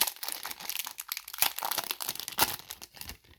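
A sealed trading card pack being ripped open, heard as close, continuous crinkling and tearing of foil wrapper with a couple of sharper rips, alone with no talk.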